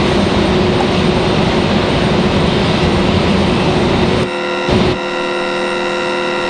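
Frontier Airlines airliner at the end of the runway at Raleigh Durham airport, a loud, dense jet engine roar that cuts abruptly near the end into a thinner tonal hum.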